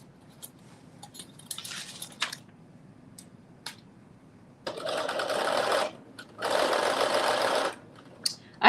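A sewing machine bastes a seam at a 3/8-inch allowance on a McCall's 8370 garment, starting with short hesitant stitches, then running in two steady, fairly loud bursts separated by a brief pause.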